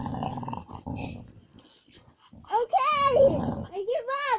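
Playful, throaty dog growls rumble up close during a wrestling match with a person, rising into louder snarling bursts, while a voice talks over the opening moments.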